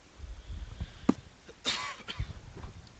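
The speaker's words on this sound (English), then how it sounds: "Sorry, I had to cough there." A single short cough during an online bullet chess game, faint and close, set against a quiet room with light background noise and a few small clicks.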